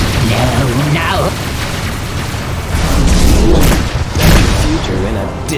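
Booming missile explosions in Fallout: New Vegas, heavy blasts that hit twice in the second half over a rumbling battle din, with a voice speaking throughout.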